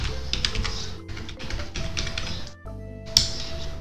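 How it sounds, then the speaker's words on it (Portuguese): Typing on a computer keyboard while entering a new password a second time to confirm it: a steady run of fast, close key taps with a brief pause near the end, then a few more keystrokes. "Digitei minha nova senha e vou confirmá-la."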